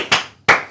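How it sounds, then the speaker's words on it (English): Two sharp hand claps, close and loud, separated by a short pause. "Why did you clap?"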